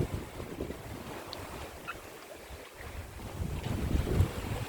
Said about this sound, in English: Wind straight from behind, straight to destination.